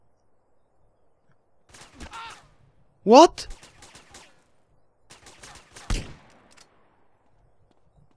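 Soldiers fire at the player in GTA: San Andreas: scattered bursts of video game gunfire, with a loud cluster of shots near the middle and another later. Someone talks briefly between the shots.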